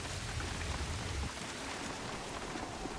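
Steady, dense rain pours down in the video game The Bureau, a continuous broadband hiss of heavy rainfall with a low rumble early on and no speech.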